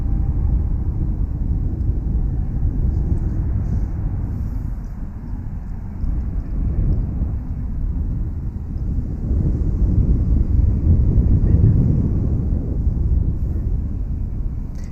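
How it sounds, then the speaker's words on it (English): Steady North Texas wind roars and buffets the microphone near DFW airport, a dense low rumble that surges slightly and never lets up. "it's windy every day in North Texas."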